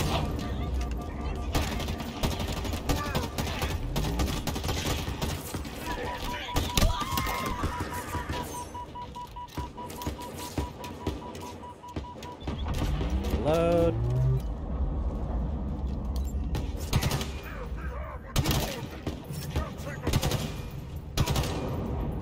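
Weapon fire in the Halo Infinite campaign, with rapid automatic bursts and shots running through the whole stretch alongside other game effects and someone talking over the action.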